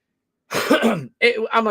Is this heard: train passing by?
no